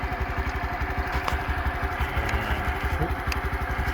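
A Honda Dax 125 motorcycle engine runs at a steady idle nearby, a fast, even chugging thrum with light mechanical clatter and no talking.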